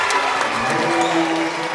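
Crowd at a high school boys varsity basketball game, Platteville versus Prairie du Chien, cheering and clapping in a gym as a continuous roar.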